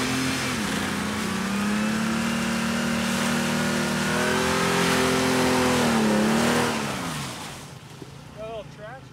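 A Jeep Liberty 4x4 engine revs loudly and steadily up close on ice, its pitch holding high then dropping away as the revs fall, while people talk nearby.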